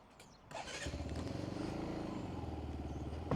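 Benelli BN125 single-cylinder 125cc motorcycle engine pulling away at the start of a ride on a sunny UK road, a steady close thrumming rumble rising after a brief quieter lead-in.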